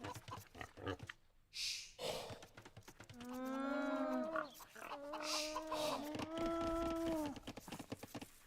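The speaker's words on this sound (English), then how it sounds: "I don't know why llamas moo." A llama in a video game lets out long, drawn-out mooing calls, two sustained tonal bellows heard close and clear, with a person talking briefly before them.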